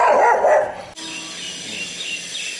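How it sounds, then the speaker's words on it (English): Several dogs bark around a residential neighbourhood in India, a loud burst of barking at first giving way to fainter, more distant yelps under steady background ambience. "A lot of dogs in the neighborhood."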